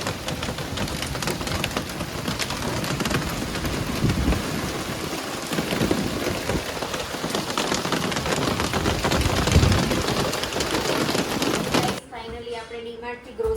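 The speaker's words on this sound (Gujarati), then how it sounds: "અમદાવાદમાં વરસાદ પડી રહ્યો છે અત્યારે રાત્રે, અને વીજળી ને કડાકા" Heavy night rain with lightning and thunder in Ahmedabad, a loud, dense wash of downpour with low rumbles swelling through it, before the sound drops sharply and a voice speaks near the end.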